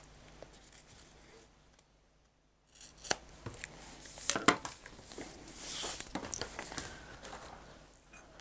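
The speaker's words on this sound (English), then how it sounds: "I think I need to trim that edge up just a little bit." Scissors trimming the fabric edge of a cross-body bag, a run of close, crisp snips and rustling cloth after a brief quiet pause, with no speech.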